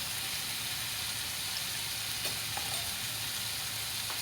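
Spice powders such as turmeric and chili powder tipped into chicken gravy frying in a pan, giving a steady close sizzle with faint stirring scrapes and a couple of soft taps near the middle, no voices.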